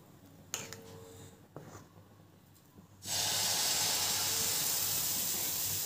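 Sooji rava dosa batter hits a hot dosa tawa and breaks into a loud, steady hiss of sizzling after a few quiet seconds of faint clinks and handling noise.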